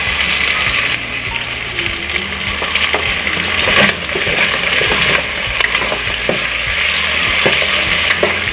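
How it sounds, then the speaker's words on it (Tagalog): Chicken tinola being stirred in a pot, continuous loud sizzling and bubbling with repeated scraping and knocking of a utensil against the pot, close up and without talk. "Haluin natin at ilalagay natin ulit yung fried chicken."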